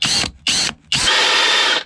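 Power drill with a 7mm bit working on a Harley-Davidson transmission cover, two short whirring bursts followed by a longer sustained run, loud and close with no talk.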